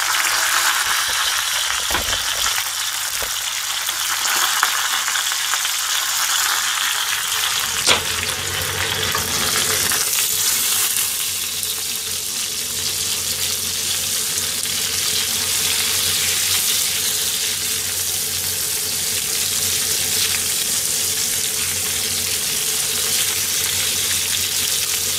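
Potato sauté, chicken cutlet or pork with asparagus sizzling in a frying pan, a steady broadband hiss with a louder crackle around eight seconds, continuous and close throughout, with no talking.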